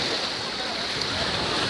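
Sea waves at a beach in Saudi Arabia give a steady broadband wash of surf, moderately loud and even, with a breezy hiss over it.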